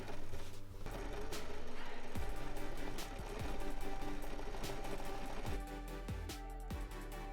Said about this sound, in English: So I'm going to sew these three sides, the top and the sides